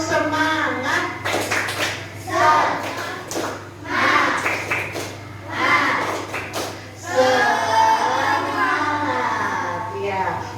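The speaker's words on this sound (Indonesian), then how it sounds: "Tepuk semangat." Children doing a rhythmic spirit clap in a classroom, bursts of patterned claps and thumps alternating with young voices chanting and a teacher speaking, lively and moderately loud.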